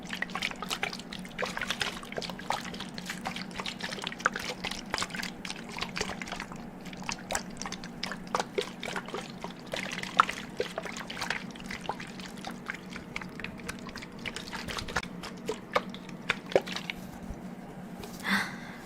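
Soft, close water sounds at an ASMR microphone as water is poured and sipped, a faint run of small wet drips, trickles and swallows scattered across the stretch in a quiet room.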